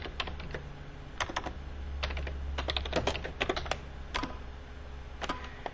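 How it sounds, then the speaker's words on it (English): Typing on a computer keyboard at an office desk, with quick irregular clicks in short runs, close and fairly quiet over a low steady hum, no talking. "you can just type in where it is."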